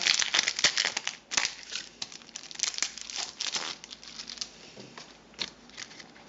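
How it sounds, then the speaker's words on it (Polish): Plastic packaging for a Nokia 208 phone screen protector film being opened up close, with continuous crinkling and tearing that is dense at first and then thins out. "musimy sobie otworzyć na początku naszą folię"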